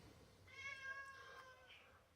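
A domestic cat meows indoors, a couple of short, faint, tonal cries close together over quiet room noise.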